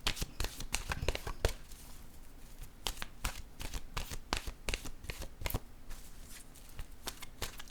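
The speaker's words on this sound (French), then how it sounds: "Je vais piger une carte de mon oracle de l'âme intuitive." An oracle card deck being shuffled by hand, with rapid rhythmic riffling and slapping of cards, loud and close, running steadily throughout with no voices.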